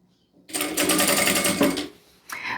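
A sewing machine stitches in a close, loud burst of about a second and a half, stops briefly, then starts again with a short run at the end.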